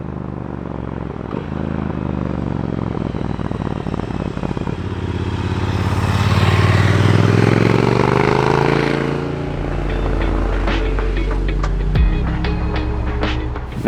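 Triumph Speed Twin 1200 fitted with Akrapovic slip-on mufflers and a Motone X-pipe rumbles close by, swelling into a louder throttle run midway before dropping back to a lumpy idle with sharp pops.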